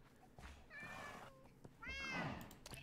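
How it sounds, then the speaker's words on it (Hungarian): A Minecraft cat meows twice, a short call followed by a longer, louder one, heard up close over a low in-game background hum. "Fekete macska, gyere ide!"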